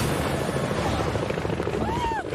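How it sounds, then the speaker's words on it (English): Helicopter rotor noise from a cooking-competition setting, a loud continuous broadband roar with steady beating pulses, close and dominant throughout, with a faint rising whistle near the end. "hear the propeller noise"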